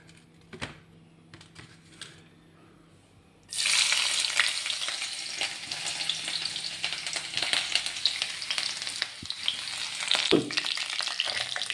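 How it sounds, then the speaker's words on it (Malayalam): Ginger dropped into hot oil in a pan while kuzhi paniyaram is made, a few quiet clatters and then a sudden loud sizzle that keeps crackling steadily with occasional stirring scrapes, up close and with no talking. "ആദ്യം നമുക്ക് ഇഞ്ചി ഇടാം ഫസ്റ്റ് ഇഞ്ചി താളിക്കാട്ടാ"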